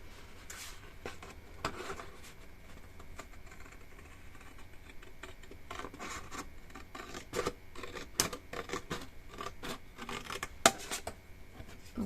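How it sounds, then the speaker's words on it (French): Scissors cut through card along a pencil line for a Christmas candle box, a close run of quiet, irregular snips and scraping rasps with brief louder crunches. "On découpe sur la ligne de crayon."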